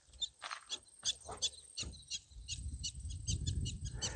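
Prairie dogs give sharp, high warning chirps in quick bursts, several callers overlapping at a short distance, with a low rumble of wind or movement toward the end.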